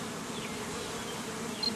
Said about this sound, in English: A lot more bees on this side.